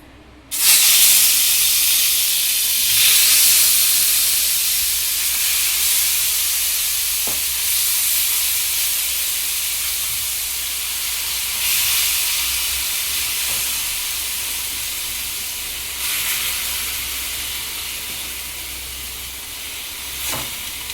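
Ghee heating on a low flame in a pan for tempering sambar gives a soft, steady hiss and sizzle that stays even and close throughout, with a few brief louder bursts.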